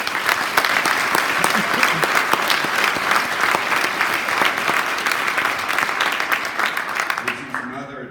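A crowd at a fall sports assembly at Augusta Prep Upper School gives the Booster Club a sustained burst of dense applause that tapers off near the end as a voice begins speaking.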